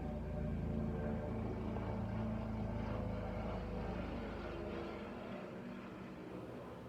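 A helicopter passes overhead with a steady, loud engine and rotor drone that holds for several seconds, then slowly fades as it moves away.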